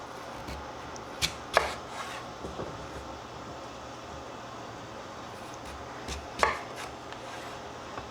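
A knife slices a washed vegetable in half on a cutting board, three sharp chops spaced apart, crisp and close, over faint steady room noise.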